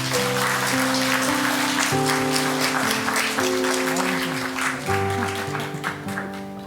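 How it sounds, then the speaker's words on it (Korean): A church congregation claps during a Sunday worship service, a dense patter of hands under sustained organ or keyboard chords that shift in pitch, the clapping thinning slightly toward the end. "축복의 박수 부탁하겠습니다."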